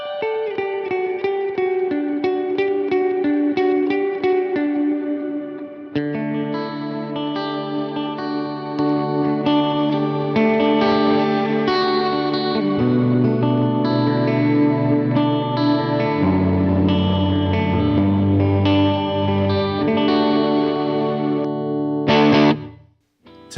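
Electric guitar running through a Lore effects pedal, a long shimmering passage of layered, modulated notes that swell and build over time, loud and up close without any talking.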